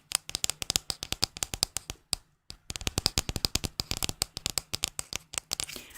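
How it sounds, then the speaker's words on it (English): Quick, crisp hand taps and rubbing sounds repeat rapidly and closely, with a brief pause midway before the fast rhythm resumes. "I also like the hand sounds."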